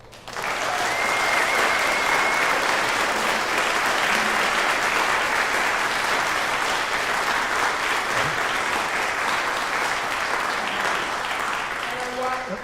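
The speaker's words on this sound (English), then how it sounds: "I think they deserve another round of applause" A contest audience claps for young performers, loud, continuous applause that holds steady for about twelve seconds before stopping.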